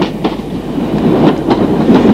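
Red-liveried London Underground 1938 tube stock train running on the line, a steady close rumble with rhythmic clickety-clack of wheels over rail joints throughout.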